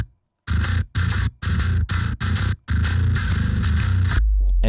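Gritty, distorted bass guitar through the Neural DSP Darkglass B7K amp plugin, playing a chugging riff in short bursts with brief gaps, loud and close, no talking.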